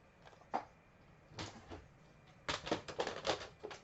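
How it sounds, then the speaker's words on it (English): Cardstock being cut for a layered handmade card, a few scattered crisp scraping cuts followed by a quicker run of short rhythmic slicing strokes, close and fairly quiet, no talking. "So let me cut my piece really quick"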